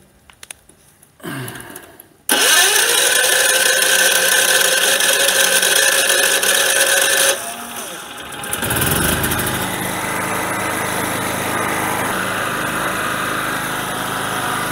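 A tri-fuel generator engine is cranked with the choke on and catches, settling into a loud, steady high-revving run that dips briefly before holding a constant drone.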